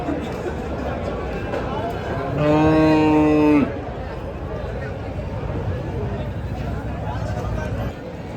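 A single loud, drawn-out cow moo rises over a noisy crowd of people talking nearby at the Deulgaon Raja cattle market.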